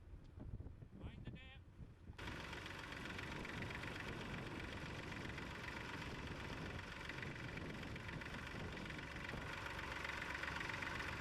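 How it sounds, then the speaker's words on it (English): A steady Dexter tractor engine drone, ploughing a field, starts after a brief quieter moment and runs continuously, with wind buffeting the microphone. "ploughing with one of the four Dexter tractors on the field"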